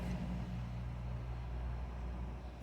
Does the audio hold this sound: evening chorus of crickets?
no